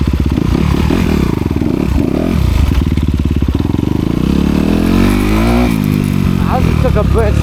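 A Honda CRF250R dirt bike rips fast through a construction site, its engine buzzing loud and close with rising revs and clattering, while a rider talks over it.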